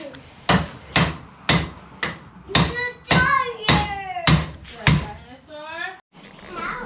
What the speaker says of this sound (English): and then just drive it in with a little bit with the hammer